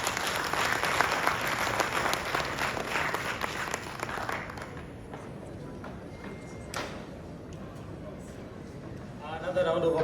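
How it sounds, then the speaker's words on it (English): Summit audience applauds the Principal Secretary, dense clapping that is loud at first then thins out, with a voice speaking over the tail end. "Another round of applause for the Principal Secretary, that is Dr. Juma Mukhwana."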